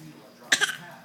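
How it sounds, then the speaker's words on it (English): A single short fake cough, a sharp forced burst with a quick second catch, close and fairly loud against quiet surroundings. "Let me hear that bad cough"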